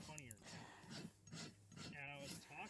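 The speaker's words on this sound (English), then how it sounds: "When I run my rasp, I'm trying to run it in the same angle from the coronary band to the tip of the toe" A farrier's rasp scrapes across a dry, hard hind horse hoof in quick, close, repeated strokes, with a brief voice-like sound near the start and again toward the end.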